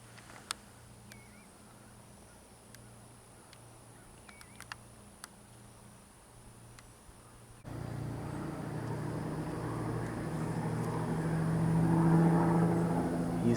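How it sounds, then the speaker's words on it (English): Distant road traffic near an old phosphate mine lake gives a faint, quiet hush at first. Partway through it turns into a louder, swelling wash of passing vehicle noise, with a droning tone rising near the end. "Used to never hear traffic here,"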